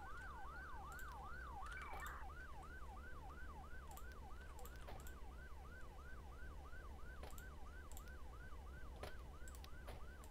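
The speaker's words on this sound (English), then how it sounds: "I hear sirens somewhere" An ambulance siren from the Emergency 5 video game with the Beaverfield mod wails in steady, rapid up-and-down sweeps, loud and continuous over a low engine rumble, with no talking.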